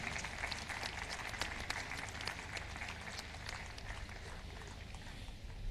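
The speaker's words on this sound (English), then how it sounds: "I request to give him a hand clap for a job well done." A crowd claps in sustained applause at an outdoor Tarehe Sita national celebration parade in Mbarara, Uganda. The broad, steady clatter of many hands is fairly distant and continues evenly throughout.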